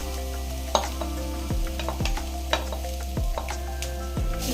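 Shredded chicken goes into vegetables frying in a pan, bringing a loud, constant sizzle and several scraping, stirring strokes close by, with no voices.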